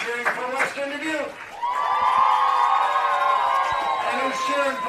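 Crowd at a girls' state high school softball game cheering for Western Dubuque, a sustained roar of shouts and whoops that swells after a brief lull and stays loud throughout.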